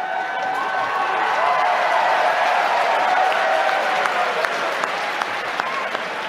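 A large crowd at a college debate event applauds steadily with some cheering, a loud, sustained wash of clapping that holds throughout without letting up.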